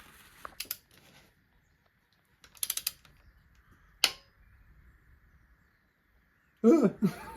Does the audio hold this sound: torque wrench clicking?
yes